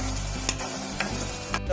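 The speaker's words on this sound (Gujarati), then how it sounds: "મિક્સ કરી દઈએ એટલે કે બરાબરનું બફાઈ જશે મિત્રો" Maggi noodles with salt stirred in a pot, three scraping strokes of the spoon over a steady bubbling, simmering background.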